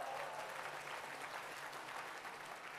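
A large crowd at a 2023 company vision event applauds in a steady, even wash of clapping, moderately distant and sustained for the whole stretch.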